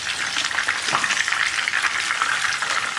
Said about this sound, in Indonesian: Terus kita mau goreng ayam sudah tadi kita rebus.